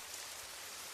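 Steady rain falls as a dense, even hiss across the whole second, with no voices and no breaks, in a quiet nighttime setting.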